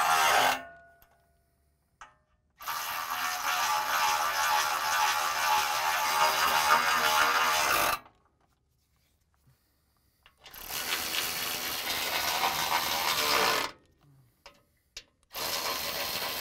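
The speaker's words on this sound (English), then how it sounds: "now using my electric ratchet and 13 millimeter" A cordless electric ratchet with a 13 mm socket snugs down bolts on the front differential of a 2009–2018 Ram 1500, whirring in two long bursts of about five seconds and three seconds, with a few short clicks and gaps of quiet between.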